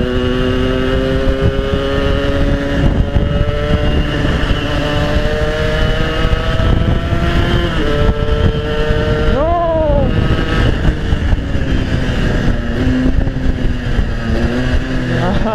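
A Yamaha RX King two-stroke motorcycle revs loudly and close by while riding, its pitch sweeping up and down with throttle, under a constant rushing engine roar.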